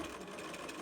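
A sewing machine stitches a zipper pouch in a brief, quiet, steady whirring run with no voices.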